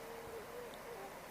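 Tundra swans call from a distance over open water, a few soft, faint, mellow hooting notes in a quiet outdoor setting.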